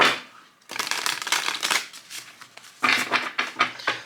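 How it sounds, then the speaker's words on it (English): Two bursts of a deck of cards being riffled and shuffled up close, crisp fluttering clicks with a short pause between, no talking. "the cards have been pre-cleansed, pre-shuffled, but we're gonna give them a few shuffles here"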